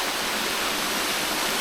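Grey Mare's Tail waterfall in Wales pours with a steady, dense hiss of falling water, even and unbroken throughout, with no voices.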